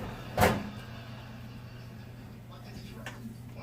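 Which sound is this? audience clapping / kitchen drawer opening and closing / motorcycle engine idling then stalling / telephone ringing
kitchen drawer opening and closing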